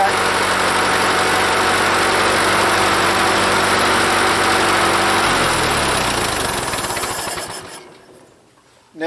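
A Ford 8N tractor engine idles with a loud, steady throbbing rumble close by, then shifts in tone and dies away near the end as it is shut off.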